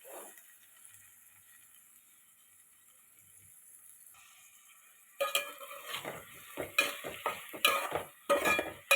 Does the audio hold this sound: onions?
yes